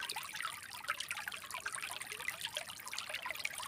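Spring water trickling steadily outdoors, a continuous bright splashing babble at a moderate, even level with no voices over it.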